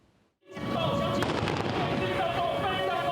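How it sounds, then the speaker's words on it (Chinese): Blasts simulating a missile strike during a Taipei city civil-defence air-raid drill burst in after a brief quiet, then a dense, loud crackling barrage of explosions and pops continues without letup to the end. "爆炸声互现场真紧张"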